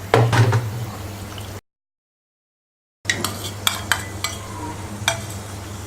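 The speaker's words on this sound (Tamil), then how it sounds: "முந்திரி திராட்சை நல்லா வறுந்துருச்சு. இப்போ நம்ம கேசரியில் போட்டுக்கலாம்." Ghee-fried cashews and raisins go into rava kesari with a short clatter of a utensil against the pan and light sizzling. After a brief silence, several sharp spoon taps and scrapes follow.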